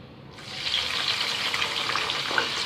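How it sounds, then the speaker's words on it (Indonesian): Cashew nuts hit hot oil in a pan and set off a loud, steady sizzle and crackle that starts abruptly and continues evenly, with no talking over it. "Kita siap menggoreng kacang metenya"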